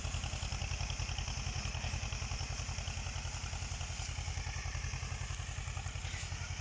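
A small tractor's single-cylinder engine chugs steadily in a fast, even putter while plowing soil after rain, close by and continuous, with faint clattering on top.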